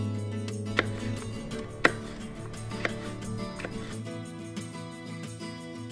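A peeled beet is chopped with a knife, giving a handful of sharp, separate knife strikes against a board over steady background music.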